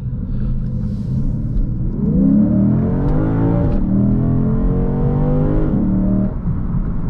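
A 2024 Lexus IS500 F Sport's naturally aspirated V8 accelerating hard, a deep engine rumble rising steadily in pitch as the revs climb, with a brief dip at a gear change before climbing again, heard from inside the car.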